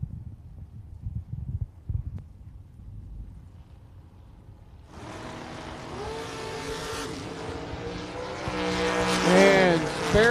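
Drag race at a coastal event between a Thunderbird and a Camaro: quiet rumbling idle for five seconds, then a sudden loud roar of engines accelerating, rising in pitch and growing louder to the end.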